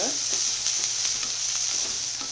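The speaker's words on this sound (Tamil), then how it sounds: "இப்போ நான் அந்த இஞ்சி பூண்டு பேஸ்ட் ஆட் பண்ணுறேன். இது நல்லா சாட்டே பண்ணிவிட்டு" Ginger garlic paste sautés in a pan for a small onion mutton fry, giving a loud continuous sizzle with faint stirring scrapes. The frying is close and steady, and no voice is heard.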